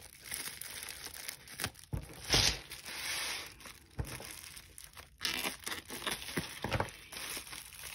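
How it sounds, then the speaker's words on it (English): Crinkly plastic bubble wrap packaging rustles and crackles in close, uneven bursts, with a few sharper crunches and brief pauses between handling. "they're wrapped up really good in this bubble wrap"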